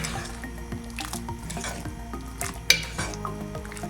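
Flour slurry being stirred into a pot of chicken corn soup, giving soft wet squishing and dripping sounds with a sharp clink of the spoon partway through.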